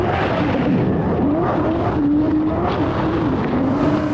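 Porsche 718 Cayman GT4 on a race track, its engine loud and continuous with pitch rising and dipping as it short-shifts into third, under steady road and wind roar.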